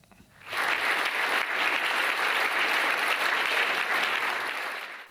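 Loud applause from an audience greeting President Xi Jinping, accompanied by Chief Executive Carrie Lam, swells in abruptly, holds as a dense continuous roar of clapping, then begins to ease at the end.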